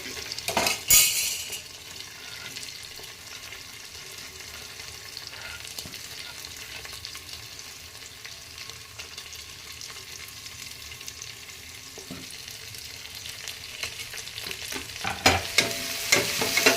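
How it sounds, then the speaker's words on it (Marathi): Onion, chili, potatoes, tomatoes and peanuts stir-fried in a pan over medium flame, with a steady soft sizzle and occasional scraping and clinks of a spoon against the pan, close and fairly quiet. "मीडियम फ्लेमवरती हे सगळं परतून घ्यायचं व्यवस्थित."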